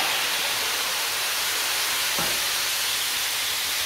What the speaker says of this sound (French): On va déglacer avec maintenant un peu de calva